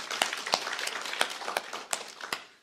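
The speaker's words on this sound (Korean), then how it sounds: "하나님께 영광의 박수 올려드리겠습니다." Church congregation clapping together in praise to God, a scattered run of sharp hand claps at an uneven pace, moderately loud and roomy.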